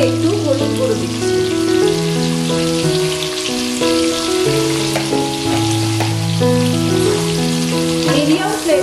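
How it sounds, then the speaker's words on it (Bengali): Vegetables fry in a pan over a medium flame with a steady, rain-like sizzle. Prominent melodic music plays throughout and largely covers it. "মিডিয়াম ফ্লেমে সব সবজিগুলোকে প্রথমে একটু ভেজে নেব"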